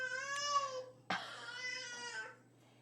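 A baby squawks in the background indoors, drawn-out high wails with a brief sharp break, faint and distant with no talk over it.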